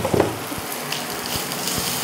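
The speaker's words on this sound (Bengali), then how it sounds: "একটু ভেজে নেব।" Ground chilli, black pepper, coriander and cumin frying in a pan for aloo tikki, a steady close sizzle with faint crackles and light stirring scrapes running throughout.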